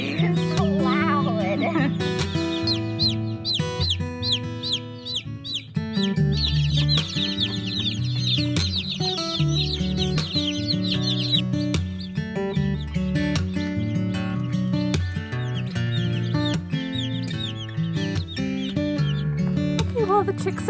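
Many high, rapid baby chick peeps chirp continuously on a farm, mixed with a busy layer of other sound, close and loud throughout.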